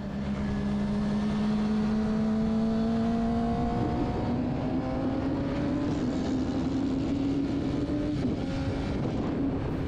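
Honda CBR 600F4i motorcycle lapping a race track, a continuous loud engine drone with rising and shifting pitch as it accelerates, steady throughout and alone without talk.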